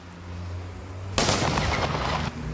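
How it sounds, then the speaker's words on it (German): Gunfire at a Banntag celebration shooting: a sudden loud burst of rapid shots or a crackling volley that lasts about a second, heard outdoors over a steady low background hum. "Was wäre ein Bandtag ohne das Schiessen?"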